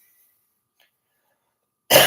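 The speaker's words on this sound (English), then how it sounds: "As you can tell, I still have a cough" After near silence, a single close, loud cough bursts out abruptly at the very end, from a person livestreaming in Russia who has a lingering cough.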